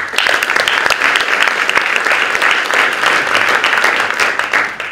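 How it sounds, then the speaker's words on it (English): A round of applause rises from the audience at a tourism pitching session, loud and sustained clapping from many hands that tapers off at the end. "So I would like to give a round of applause for them."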